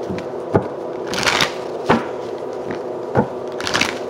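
A deck of tarot cards being shuffled close up, with several sharp riffling bursts and soft papery rustles over a steady background hiss.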